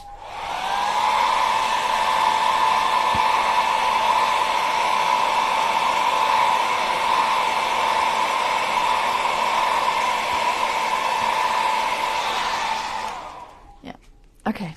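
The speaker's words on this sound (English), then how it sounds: "We're going to hit it with the blow dryer real quick." Blow dryer running steadily at close range with a strong, even whir for about thirteen seconds before cutting off, followed by a few small clicks.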